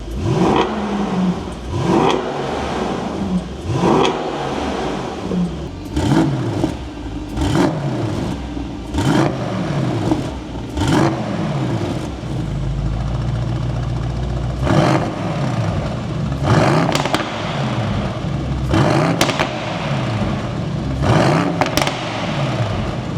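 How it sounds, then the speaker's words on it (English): A Mercedes-AMG GT63's exhaust, factory and IPE aftermarket systems compared, revving repeatedly: sharp rises and falls in engine pitch, loud and close, with a steady rumble between the revs. "I'll plug in a before and after sound clip of what the factory exhaust sounded like"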